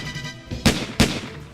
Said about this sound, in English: Then they heard gunshots.